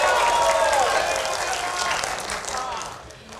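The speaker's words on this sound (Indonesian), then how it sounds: "kita akan dengarkan terlebih dahulu tepuk tangan dari pendukung paslon nomor urut 1" Supporters of candidate pair number 1 applauding at a public debate for the Sorong regent and deputy regent election, a dense crowd clapping and cheering with voices mixed in, tapering off at the end.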